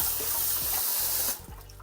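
Tap water runs in a steady hiss while potatoes are rinsed, then cuts off sharply near the end, leaving faint handling sounds.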